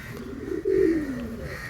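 A single soft, throaty pigeon coo swells and fades in a quiet loft where related breeding pigeons of the same line are kept, heard close and alone.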